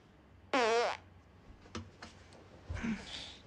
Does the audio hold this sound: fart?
yes